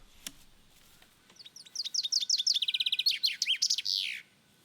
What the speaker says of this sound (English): The chaffinch bird now rings the time